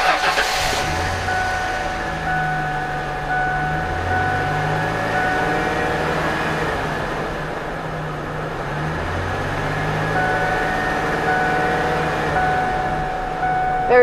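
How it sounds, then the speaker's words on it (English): A 2003 Ford E150 cargo van with 59k miles idles steadily, a smooth, even engine hum running continuously and fairly close with no talking. "now I'm going to let you listen to this one"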